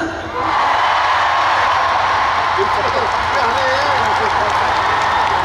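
A large festival audience at the Chungju Dive Festival concert roars and cheers in a sustained, loud wall of sound that swells up after a brief quieter start, with a voice speaking over the crowd.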